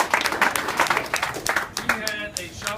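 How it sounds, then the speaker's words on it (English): Crowd applause at an outdoor ribbon cutting for a coffee shop, a cluster of hands clapping unevenly with voices talking and cheering over it as it fades. "So I want to give you a round of applause right now for showing up."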